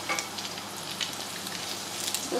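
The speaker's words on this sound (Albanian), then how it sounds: "Ngjym bukën në masën e vajs, qumshtit edhe krypës, edhe qesim me fërgu." Bread dipped in an egg, milk and salt mixture fries in oil, a steady dense crackling sizzle with small pops, close and continuous.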